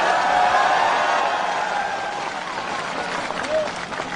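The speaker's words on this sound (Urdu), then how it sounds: "اس پہ تالی ماریے" Dense applause and crowd noise from an audience at a political rally, a steady broad wash of clapping that holds for several seconds and gradually thins, with a brief voice rising above it.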